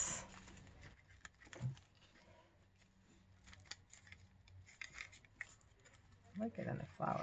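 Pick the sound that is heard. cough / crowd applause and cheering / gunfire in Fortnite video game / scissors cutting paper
scissors cutting paper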